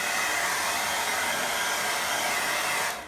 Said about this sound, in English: Then we look for our dryer, and then we dry this